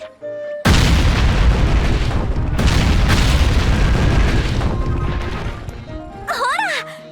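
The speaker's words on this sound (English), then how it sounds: "which we do by making a bomb and setting it off" In the video game Atelier Ryza, a bomb goes off with a sudden heavy boom and a rumbling crash that fades over several seconds, followed by game chimes and a voice speaking.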